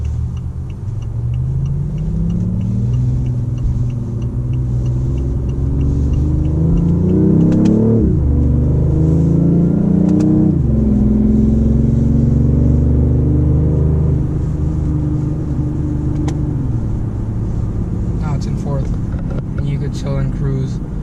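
A BMW i8 supercar accelerates from inside the cabin with a steady, loud engine drone that rises in pitch, drops sharply at fast gear changes around the middle, climbs again and then settles into a cruise.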